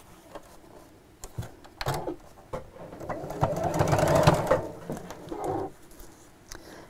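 A sewing machine stitches down the folded fabric edges of a zipped tote bag, with short quiet bursts giving way to a longer steady run of stitching near the middle, fairly soft and close.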